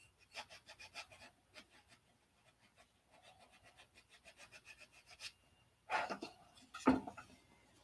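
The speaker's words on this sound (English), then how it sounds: "Let me sand the pen lines off of this stuff" Wood is hand-sanded to remove pen marks: rhythmic short rubbing strokes, close and soft, in a quick run, then a slower stretch, followed by a couple of louder scrapes and knocks.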